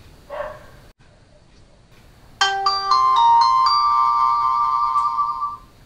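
A MyPhone myX12 phone plays its iconic ringtone, a bright, loud chiming melody of sustained notes that rings out clearly after a brief quiet moment with faint sounds before it.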